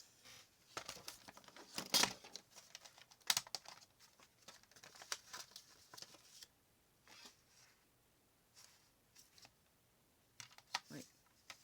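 Scissors cutting off a measured, marked piece of fabric or paper at close range, a few crisp snips and rustles scattered among quiet handling sounds.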